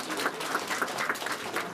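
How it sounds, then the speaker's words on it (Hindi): An audience at a village ceremony claps in a dense, continuous burst as local officials are honoured. The applause is steady and fairly near, with no pauses over its short length. "जोरदार तालियों के साथ"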